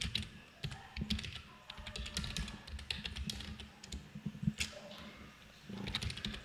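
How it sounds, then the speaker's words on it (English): Rapid, uneven tapping on a computer keyboard while an email is typed, with close clicky keystrokes in bursts and brief pauses, no voices. "I'm typing the email"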